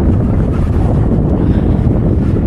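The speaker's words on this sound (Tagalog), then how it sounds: "kaso nga lang pasalubong naman yung hangin sa atin" Steady, loud headwind buffeting the microphone during a road bike ride near a river bridge, a continuous low roar with no letup and no voices.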